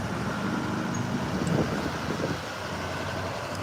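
A GM pickup truck rolls past on the M-22 road in Glen Arbor, Michigan, a steady broadband road rumble swelling slightly midway, mixed with constant wind noise on the microphone and no talking.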